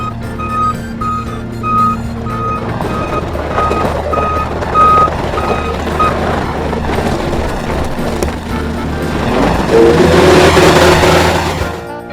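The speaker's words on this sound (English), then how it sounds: "Do you hear that engine purr?" A heavy vehicle engine rumbles steadily while a loud reversing alarm beeps in a regular rhythm, the engine swelling louder near the end.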